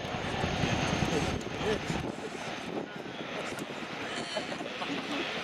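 A steady, loud aircraft engine drone at 100% torque during a climb at an air show display, with a low rumbling texture that shifts slightly partway through.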